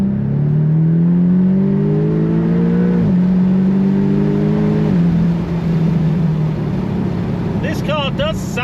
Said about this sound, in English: It's got a Miltech aftermarket OPF back exhaust on it, which just gives it a bit more bark and a bit more rumble.